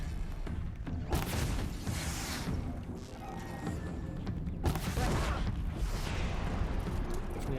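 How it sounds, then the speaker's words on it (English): Explosions and blasts during combat in the video game Horizon Zero Dawn, a dense run of booming bursts and crashing impacts with two sharp peaks, continuous and loud throughout. "Explosion."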